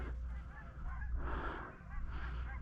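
Geese honking as they fly in over a hunting pond, a steady chorus of calls under constant wind and background noise across the whole stretch.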